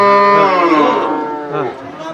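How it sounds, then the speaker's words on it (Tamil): Cattle at the Melur livestock market: one loud, close moo rises and fades over about two seconds, followed by fainter lowing and background murmur. "இந்த மாதிரி பால் மாடு காளை மாடு எது வேணாலும் கொண்டு வாங்கி வாங்கலாம்"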